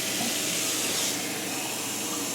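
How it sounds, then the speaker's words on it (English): Hot water running steadily from a household tap into a cup, a continuous close hiss and splash with no talk. "just take another cup and get some hot water from your tap"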